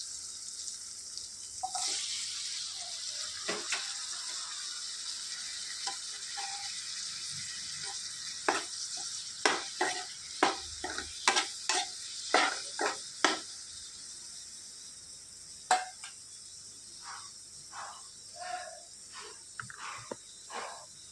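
Finely chopped tomato pieces tip into a pan of fried onions for a broad bean curry, bringing a steady hiss of frying with a cluster of sharp clinks and taps in the middle.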